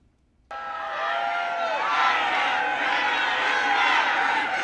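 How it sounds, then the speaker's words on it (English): Crowd at a Biden rally chanting, a dense sustained roar of many voices that starts abruptly and holds loud and steady throughout. "part of the crowd chanting, "We love Trump.""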